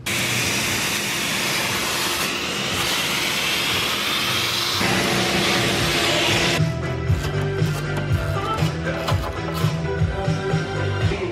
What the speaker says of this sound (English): I gotta vacuum this up before I can get to this quarter panel.